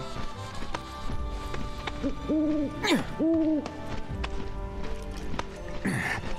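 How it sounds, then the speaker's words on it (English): A bird in Final Fantasy VII Rebirth gives two clear, wavering hoots in quick succession over steady game ambience, with faint clip-clop footsteps underneath. "It's like that bird's making fun of me."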